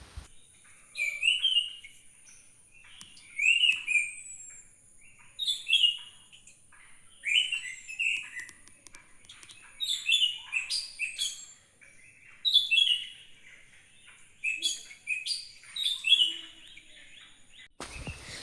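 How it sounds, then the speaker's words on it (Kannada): A yellow bird near a house sings a varied series of clear, whistled phrases, repeated roughly every two seconds from moderate distance over quiet surroundings. "ನಮ್ಮ ಮನೆಯ ಪಕ್ಕದಲ್ಲಿ ಬೇರೆ ಬೇರೆ ಧ್ವನಿಯಲ್ಲಿ ಒಂದು ವಿಶೇಷವಾದ ಹಕ್ಕಿ"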